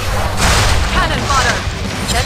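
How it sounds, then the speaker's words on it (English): A deep booming cannon blast amid dense, continuous Heroes of Newerth game noise, with a voice speaking faintly underneath. "Cannon shot."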